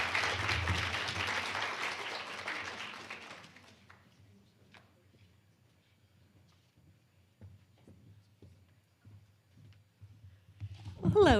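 An audience at Saint Mary's College's 2024 STEM professional development workshop gives loud, dense applause to welcome a keynote speaker. The clapping fades out after about three seconds into a quiet room with faint shuffles and taps.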